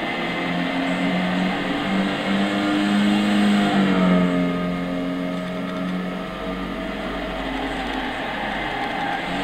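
A Mitsubishi Airtrek 2.0-litre 16V turbo engine revs in Gran Turismo 6, a loud, continuous droning roar whose pitch climbs, shifts and settles, heard alone without talk.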